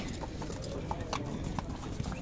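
Horse hooves clip-clop steadily on the ground at a busy horse market in Bishkek, a dense patter of steps amid crowd murmur and faint voices in the background.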